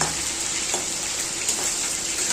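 Potatoes fry in hot oil in a pan with bay leaf and chilli, giving a steady, close, broadband sizzle with faint scraping underneath.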